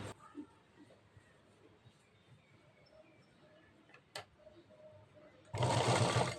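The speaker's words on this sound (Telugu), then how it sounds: "మరొక కుట్టు వేసుకోవాలి" A sewing machine stitching a blouse stays mostly quiet, with soft ticks and clicks, then bursts into one loud, close run of stitching lasting about a second at the end.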